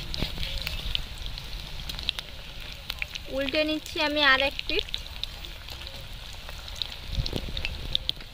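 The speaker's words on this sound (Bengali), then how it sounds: "কড়াইয়ের মধ্যে তেল গরম হয়ে গেছে, একটা একটা দিয়ে ভেজে নেব।" Pakoras deep-fry in hot oil in a wok with a steady crackling sizzle, and a person talks over it for much of the time.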